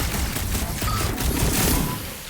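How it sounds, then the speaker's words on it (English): Fireworks burst in a rapid crackling fusillade in the video game Marvel's Guardians of the Galaxy, loud and dense, with booming pops layered over combat noise for the whole stretch. "Fireworks!"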